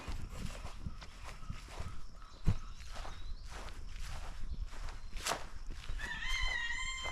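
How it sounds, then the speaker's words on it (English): Chickens in a homestead flock cluck faintly in the background, with a possible crow near the end, under steady nearby footsteps. "We've added to our chicken flock. You can kind of hear them here in the background."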